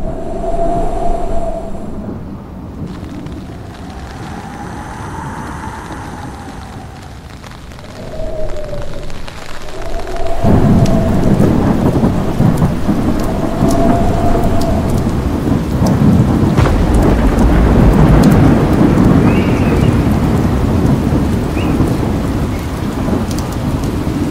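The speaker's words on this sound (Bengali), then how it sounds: "মেজ মামা যখন বের হলেন তখন ফোঁটা ফোঁটা বৃষ্টি আরম্ভ হয়েছে। বাতাসও বেশ জোর।" Rain starting with strong gusting wind as a story sound effect: a quieter opening with a swelling tonal whoosh, then a sudden rise into a loud, steady roar of heavy rain that continues to the end.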